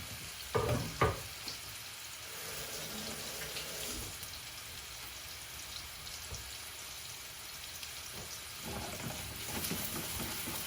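Paprika meatballs searing in a very hot pan, giving a steady, close sizzling and frying hiss throughout, with a brief louder burst near the start and a few scrapes as the pan is shaken.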